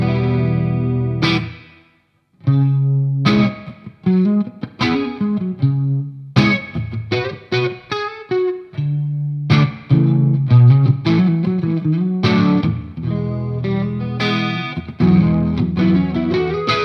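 An electric guitar played through a Mooer chorus pedal rings out in clean picked notes and strummed chords with a shimmering modulated tone, alone and close for about seventeen seconds.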